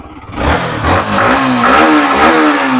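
A second-hand motorcycle engine at a Kolkata used-bike showroom revs loudly and close, its pitch climbing and holding in a steady rising drone for about three seconds with no talk.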